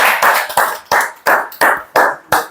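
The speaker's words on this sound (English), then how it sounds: "So a huge round of applause for Sir N.A. Saqib." Classroom audience at a morning presentation session gives a short round of clapping, about eight distinct loud bursts of hand claps in an uneven rhythm, close by with no talk.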